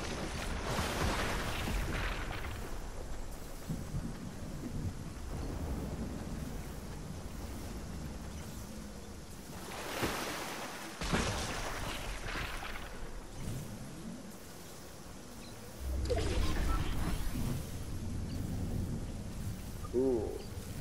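Storm in Fortnite with deep thunder rumbles and swelling wind-and-rain roar, booming heavily several times across a long, noisy stretch.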